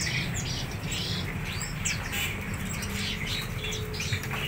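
An Asian pied starling (jalak suren loloan) kept for sale gives loud, repeated chirps and squawky calls close by, with a constant noisy background and no talking.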